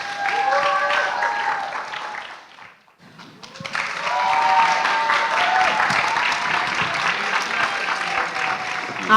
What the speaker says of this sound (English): Clap it up for them as they come.